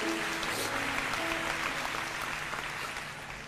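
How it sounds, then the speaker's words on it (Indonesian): Church congregation applauding during a worship service, a steady, dense wash of clapping that fills the whole stretch and tapers slightly toward the end, with faint sustained tones beneath. "Beri tepuk tangan untuk Tuhan Yesus."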